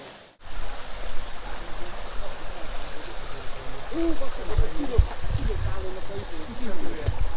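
A stream flows through a wooded valley at a campsite, a steady broadband rush of water after a brief quiet start, with occasional knocks and faint sounds.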